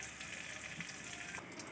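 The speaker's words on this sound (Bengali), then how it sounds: "প্রথমে আলুগুলো একটু তেলে ভেজে নিচ্ছি সামান্য একটু হলুদ আর একটু নুন দিয়ে" Potatoes fry in oil with turmeric and salt, giving a soft, steady sizzle with bubbling crackle close by, quiet and unbroken, without any voices.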